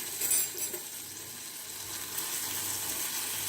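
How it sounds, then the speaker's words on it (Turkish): Steady, quiet sizzling of tomato slices frying in a pan, a soft continuous crackle with a slight clatter near the start. "Kızardıktan sonra diğer tarafını hemen çevireceğim."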